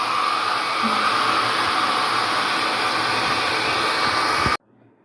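A hair dryer blowing to dry a watercolor sunset painting, a loud steady whoosh running without a break for about four and a half seconds before cutting off abruptly.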